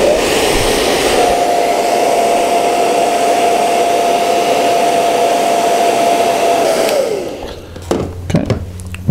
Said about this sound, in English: hairdryer again, just to dry it off